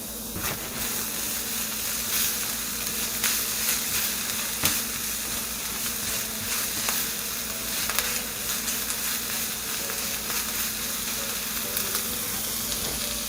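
Garlic and ginger paste frying in a pan for butter chicken, a steady close hiss and sizzle with occasional light clicks of stirring, no voices.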